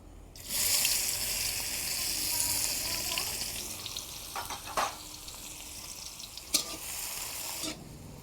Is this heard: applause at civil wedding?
no